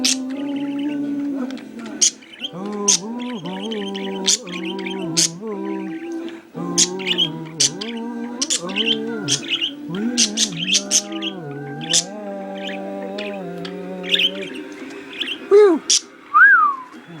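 Pet budgies chirp and warble along to a wordless folk song by Pete Seeger, bright whistled calls and sharp chirps layered over the sung melody, close and lively throughout.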